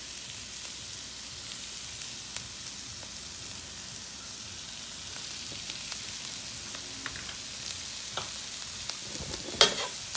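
Minced garlic, four cloves, frying with peppers and carrots in a pan for pad Thai, a soft steady sizzle with occasional stirring scrapes and a brief clink near the end.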